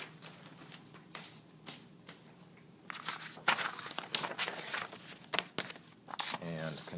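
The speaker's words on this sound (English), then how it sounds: "Shuffle my papers around for a second." Papers rustle and shuffle in bursts of crinkling and sliding, close and fairly quiet, with a brief voice at the end.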